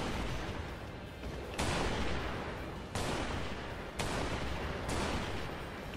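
Gunfire in the Strike Vector EX video game as extra tanks are shot, four loud abrupt bursts of sustained rattling fire with decaying tails over a continuous noisy background, no talking.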